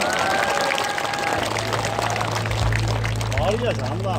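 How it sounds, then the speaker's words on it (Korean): An audience claps at a ceremony marking President Park Chung-hee's 101st birth anniversary, a steady wash of applause that fills the hall, with a voice beginning to speak near the end. "다시 한번 큰 박수 부탁드리겠습니다"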